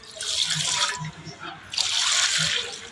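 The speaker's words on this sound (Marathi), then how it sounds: "आता जेवढा आपल्याला सूप पाहिजे तेवढं पाणी ओतून घ्यायचं आहे." Water poured into a cooking pot to make a carrot vegetable soup, two steady splashing pours separated by a brief pause, close and fairly loud with no talking.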